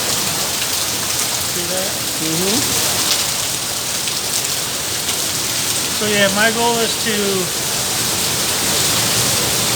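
Steady rushing water from a waterfall fills the whole clip as a loud, continuous broadband roar, with someone talking briefly over it.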